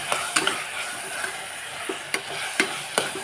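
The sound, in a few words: sautéing fried rice masala and chili powder in pan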